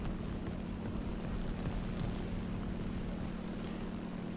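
Steady propeller-plane engine drone from a flight combat video game, a continuous low hum holding at an even level throughout with no talk over it.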